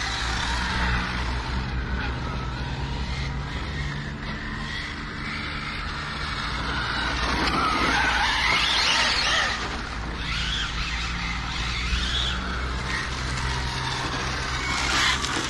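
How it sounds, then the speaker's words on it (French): Arrma Infraction 6S RC car accelerating and skidding, heard as a continuous, loud, rough rush of motor and tyre noise with a brief rising whine midway and no talking. "Là ça glisse à mort. Je remets les gaz."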